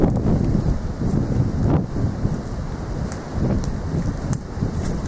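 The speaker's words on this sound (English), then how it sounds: "the wind is really picking up" Strong gale wind buffeting outdoors by a cottage, a continuous loud roaring rumble that surges and dips, blasting close against the microphone with no voices.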